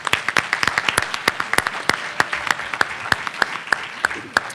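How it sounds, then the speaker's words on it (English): Applause from an audience at a student government executive debate, a dense spread of sharp individual claps that comes through clearly and sustained for several seconds, with no talk over it. "Give one more round of applause for all of our senators."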